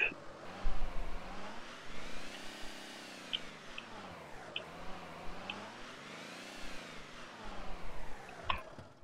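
In the emergency-services game Notruf 112, the chief's car engine revs up and down in smooth repeated swells as the vehicle drives, a steady mid-pitched whir with small clicks over it.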